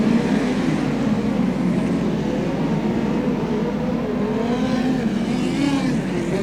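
Midget speedcars race at Archerfield during a 50-lap A-Main, their engines forming a loud, continuous roar with rising and falling pitch as the pack of cars sweeps down the front straight.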